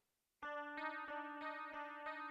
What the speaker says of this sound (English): And this is just the glimmering chorus preset on the stock Logic chorus